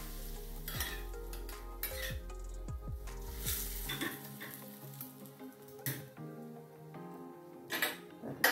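Hot oil is poured from a small bowl into balushahi dough, a loud sizzle bursting out and then settling into a steady crackle, with a few clinks of utensils against the vessel.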